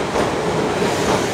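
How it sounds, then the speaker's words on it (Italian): A tram rolls past on a street in central Milan, giving a steady, close rumble with rail clatter that holds evenly throughout, with no voices. "Ora sta passando il tram"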